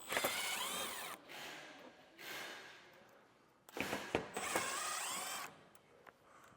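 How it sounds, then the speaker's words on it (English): An 8mm socket on a power driver backs out two screws holding the bottom of the skid plate on a 2023 Jeep Gladiator, with several close whirring bursts separated by short pauses. "take a 5/16 socket or an 8mm and remove the two screws that are holding the bottom of our skid plate in place"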